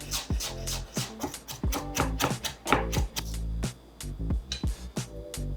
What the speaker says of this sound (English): I'm going to be finely mincing 1 teaspoon's worth of ginger